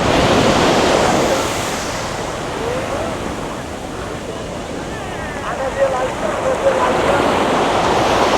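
Ocean waves on the beach at Puri, a continuous broad wash of surf with wind buffeting the microphone, rising and falling as breakers roll in, no clear voices.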